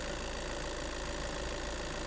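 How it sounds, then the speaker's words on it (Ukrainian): Volkswagen T6.1 Long DSG van engine idling, a steady even hum throughout, close and moderately loud with no other sounds. "моторчик працює. Все чітко"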